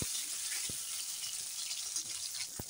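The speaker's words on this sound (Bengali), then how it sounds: "আমি এখন পটলগুলো ভালো করে একটু লবণ হলুদ দিয়ে নরম নরম করে ভেজে নেব" Pointed gourd fries in oil with salt and turmeric, giving a steady bright hiss of sizzling punctuated by a few sharp taps of a utensil.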